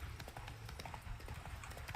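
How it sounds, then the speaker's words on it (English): Horse hooves clip-clopping at a steady trotting rhythm in The Witcher 3: Blood and Wine video game, faint and continuous for two seconds with no talk over it. "And now we shall ride, horse."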